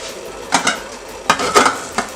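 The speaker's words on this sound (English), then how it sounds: "then in goes in the sweet potato that we cut earlier" Cut sweet potato pieces dropped into a pot of hot water while prepping baby food, giving a few short splashing clatters in two clusters, close and moderately loud, with no talking.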